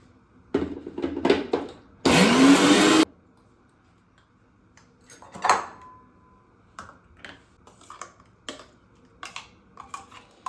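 Chopped spinach in a kitchen mixer jar is ground into paste in one loud, roaring burst of about a second, set among scattered clicks and taps of countertop prep.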